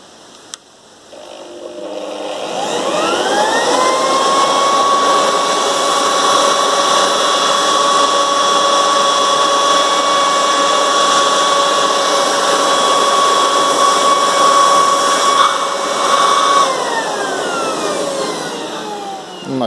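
A Black+Decker BEBLV290 electric leaf blower on its first speed spins up over a couple of seconds to a loud, steady whine with a rushing airflow roar, holding level close by before tapering slightly near the end.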